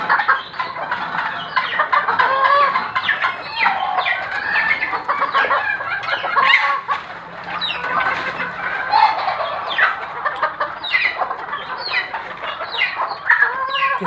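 Many chickens housed in tiered battery cages cluck and squawk continuously at close range, a busy overlapping chorus of calls with occasional louder cries.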